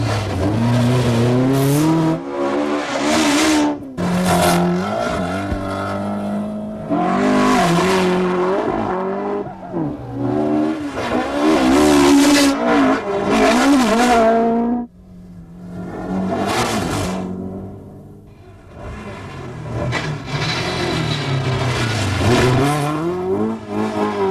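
Rally cars from the 1981 Donegal International Rally, including a Ford Escort, race past one after another on a coastal road, engines loud and revving, rising and falling as each passes close by, with no talk.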